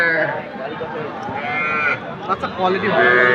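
A Sahiwal calf moos amid a noisy livestock market, with people talking over and around the call.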